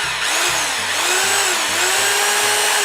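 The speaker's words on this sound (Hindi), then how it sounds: "जब हम इसे ड्रिल के ऑप्शन पे ले जाते हैं तो यहाँ पे आपको आवाज़ चेंज मिलेगी" An Aimex 26mm hammer drill runs close by in drill-only mode, giving a steady, loud motor whine with a bright, even buzz and no one talking.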